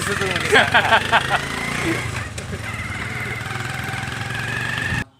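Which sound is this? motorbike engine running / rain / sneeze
motorbike engine running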